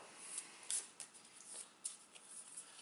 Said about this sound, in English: So I'm going to shuffle these and then get rid of 1.